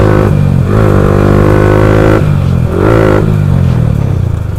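Loud, close engine roar from a Yamaha R15 V4 motorcycle fitted with an aftermarket exhaust, revving in sustained bursts with a dip and rise in pitch while riding.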